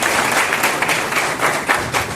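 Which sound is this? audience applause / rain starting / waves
audience applause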